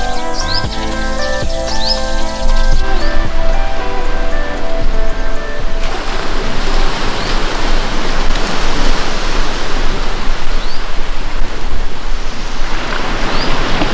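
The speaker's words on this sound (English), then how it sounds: "This is Long Beach. It's the longest strip of beach in the Philippines" Surf washing onto Long Beach in San Vicente, Palawan, a broad steady roar of waves that thickens partway through, with faint bird chirps in the background.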